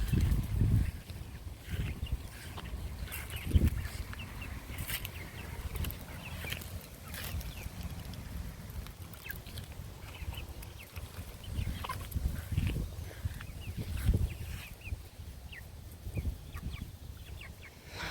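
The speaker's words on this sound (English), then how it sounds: "They're starting to make clucking sounds too now." Backyard hens in a chicken yard cluck softly and irregularly for a long stretch, scattered low clucks and rustles close by, fairly quiet throughout with no talking.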